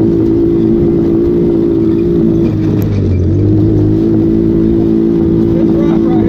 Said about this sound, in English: It's rough right here. Like the CVT, like the CVT ain't kicking in the high gear.